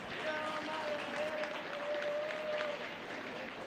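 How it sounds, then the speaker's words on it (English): Applause from the crowd at a county 4-H goat show, steady and moderately loud for the whole stretch, with a faint tone running beneath it. "Go ahead and give them a nice round of applause."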